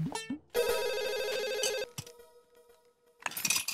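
A telephone rings loudly in a Hindi sitcom scene, with a long sustained electronic ring burst, a brief pause, and another ring starting.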